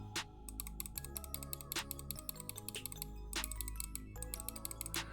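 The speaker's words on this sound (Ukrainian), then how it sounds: "Давайте тепер як вона клікає." A new Hator keyboard clicking under quick typing, with sharp, close keystrokes in uneven bursts and brief pauses, quiet overall.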